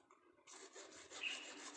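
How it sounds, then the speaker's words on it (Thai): A hand saw rasps back and forth through glued PVC pipe in steady strokes, close by, starting after a brief quiet moment. "เราใช้เลื่อยเราใช้มือดึงเลย"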